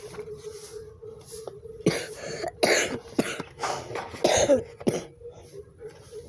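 A person with a fever coughs repeatedly, a series of close, harsh coughs and throat clearings in uneven bursts over a faint steady hum.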